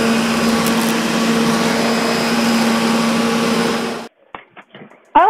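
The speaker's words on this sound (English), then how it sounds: "did somebody ask me to vacuum?" A vacuum cleaner drones loudly and steadily at close range for about four seconds, then cuts off, leaving a few brief clicks and knocks.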